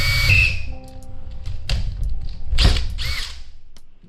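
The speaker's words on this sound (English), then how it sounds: "go through with a 6mm drill bit and drill those out." A 6mm drill bit bores holes while a front rod holder and cup holder are fitted to a Sea-Doo GTI/GTR, giving short loud whirring bursts with pauses between them.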